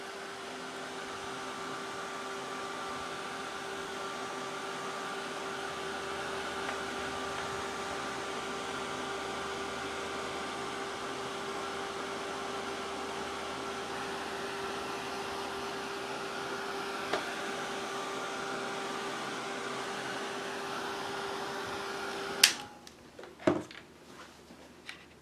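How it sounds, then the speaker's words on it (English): A heat gun blows continuously for over twenty seconds with a steady, close whirring hum, drying paint on an art journal page, then shuts off, followed by a few handling clicks. "hit it with the heat gun."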